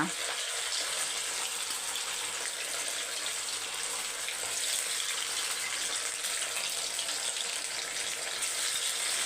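Chicken for a chicken thokku fries in a pan with a loud, continuous hissing sizzle that holds steady throughout.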